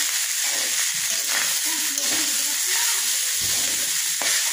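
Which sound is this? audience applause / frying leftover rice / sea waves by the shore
frying leftover rice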